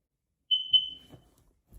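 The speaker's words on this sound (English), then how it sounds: "That is our smoke detector going off and beeping." A household smoke detector gives a single high electronic chirp, sounding twice in quick succession at moderate volume, followed by faint low household rumbles and near-silence.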